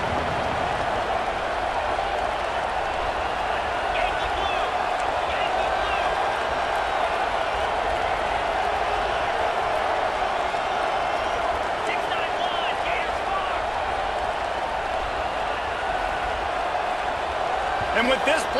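Stadium crowd at an Arizona State vs Nebraska college football game, a dense, steady roar that holds loud and continuous throughout with no breaks, as the Huskers line up near the goal line.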